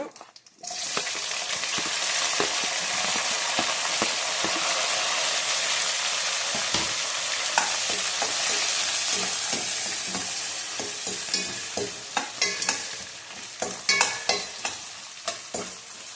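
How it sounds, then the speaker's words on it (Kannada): Chopped onions fry in hot oil in a pan for paneer matar pulao, a loud steady sizzle that fills the frame, later broken by rhythmic scraping and clacking as a spoon stirs them. "ಇದು ಒಂದು ಸ್ವಲ್ಪ ಗೋಲ್ಡನ್ ಕಲರ್ ಬರಬೇಕು ಈರುಳ್ಳಿ. ಒಂದೆರಡು ನಿಮಿಷ ಫ್ರೈ ಮಾಡ್ಕೊಳ್ಳೋಣ."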